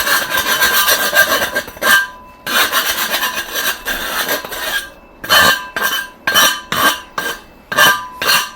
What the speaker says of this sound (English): Do a little filing.